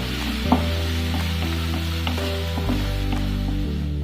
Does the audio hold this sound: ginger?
yes